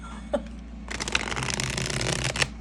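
Tarot cards riffle-shuffling up close, a quick snap and then a sustained papery riffle with a couple of sharper clicks.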